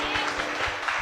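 A church congregation applauds the Lord at an Easter service, a continuous dense wash of clapping at moderate distance with a faint voice mixed underneath.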